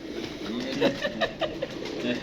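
Pigeons kept on a rooftop coo and call in a few short, repeated bursts over steady outdoor background noise.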